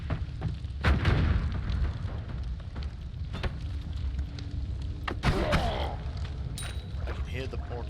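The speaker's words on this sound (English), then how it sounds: "It's a slightly more destructive bomb." Destructive bombs go off in the pixel-physics game Noita, giving a series of muffled booms and crumbling bursts scattered over several seconds, with rattling debris and a few sharp pops among them.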